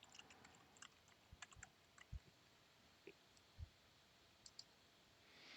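Scattered key clicks from a computer keyboard as a password is typed, quiet and irregular with short pauses between strokes in a near-silent room.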